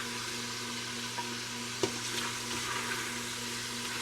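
Sausage sizzles in the pot of an Instant Pot, a steady close frying hiss with a soft bump of stirring partway through, no talking.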